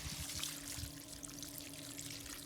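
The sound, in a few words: water flowing from a deep well pump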